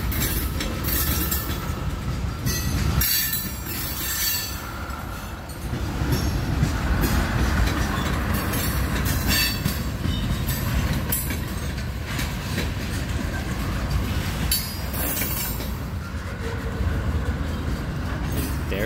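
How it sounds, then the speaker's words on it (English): A long Union Pacific freight train of 132 cars, led by SD40-2 and SD40N locomotives, rumbles steadily past nearby, wheels clattering and occasionally squealing on the rails for the whole stretch. "That train has 132 cars he's got."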